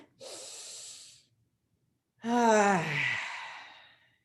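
During a new moon ceremony, a close, audible inhale is followed after a pause by a longer, deeper exhale with a slight voiced sigh, alone in quiet surroundings.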